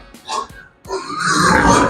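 Pigs grunting in a pigsty at evening feeding, with short bursts of grunts followed by a louder, sustained stretch of overlapping squeals and grunts from several animals nearby.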